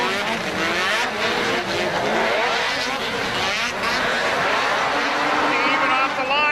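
Modified snowmobile engines rev hard together at the start of a 2000 WSA Snocross race, a dense, loud, continuous roar with rising whine, under a commentator's voice.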